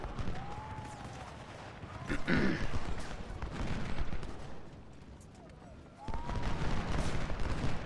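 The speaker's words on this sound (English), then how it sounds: "You can see that the units are firing much more rapidly." Rapid volleys from units firing in a war strategy game battle at Potomac Fort, played with the JonnyH13 Realism Mod on Legendary difficulty. Layered, rolling musketry-like crackle swells and recedes at mid distance, with brief whistling sweeps overhead.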